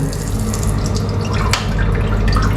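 Water spraying steadily from a Japanese-style bidet toilet nozzle in a hotel bathroom, a close, loud, continuous hiss and splatter with no talking.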